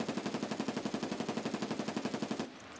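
An MK47 Mutant rifle fires on full auto in Escape from Tarkov. Around two dozen close, loud shots come in a fast, even rhythm, then the burst stops sharply into a faint ringing tail.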